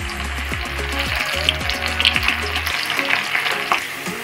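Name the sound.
corn frying in hot oil in a kadai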